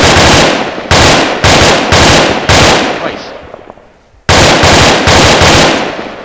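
Very loud, booming anti-materiel rifle shots in a video game fire in quick succession, each with a long decaying roar, one pause before a final blast.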